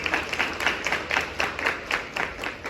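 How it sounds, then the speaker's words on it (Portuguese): A church congregation applauds after a scripture reading, with rhythmic, fairly close clapping in waves and no talk. "Pode aplaudir essa palavra, meu irmão?"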